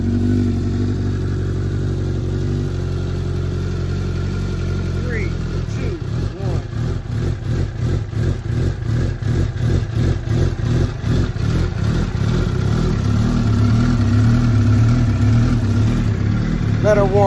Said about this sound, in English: let me get a little cold start real quick